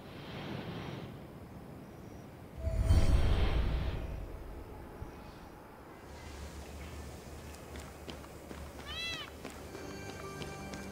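A cat meows in the video game Immortals Fenyx Rising, a brief call rising over a steady ambient game soundscape, with a louder swell of background noise partway through and faint tonal chirps later on.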